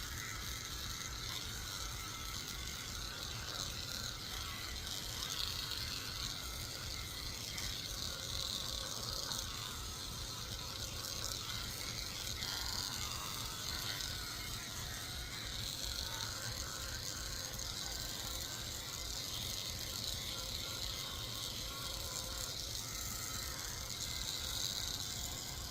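Electric clippers shave a Shih Tzu dog lying down, giving a steady, continuous buzzing hum that stays close and even, with faint rasping texture throughout and no talk.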